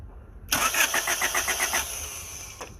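A car engine cranks in a quick run of rhythmic chugs, powered by an EverStart 3000 jump starter, then the starter motor whines briefly before the sound fades out, fairly close and with no talking.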